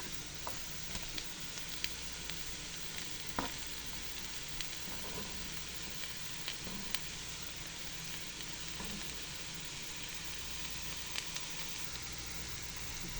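Ginger and celery sizzle steadily in a hot pan ahead of tofu, a soft continuous crackle with occasional faint pops and stirring clicks.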